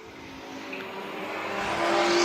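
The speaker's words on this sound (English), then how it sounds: "Smoke coming out of the back end of the 99 machine as he goes up the racetrack out of turn number 2" Stock cars roar around the short track at Dillon, South Carolina, during an exhibition race, one with smoke pouring from its back end. The dense engine drone builds steadily louder as the pack approaches.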